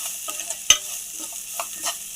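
Egg samosa filling sizzling softly in a pan over low heat while a spoon stirs it, a quiet hiss broken by a sharp scrape and a few light clinks and knocks close by.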